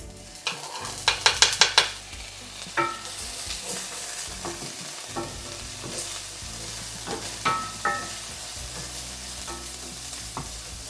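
Minced garlic and onion frying in an iron pan, a low steady sizzle punctuated by a quick cluster of clinking spatula scrapes early on and scattered stirring taps afterward, near and moderately quiet.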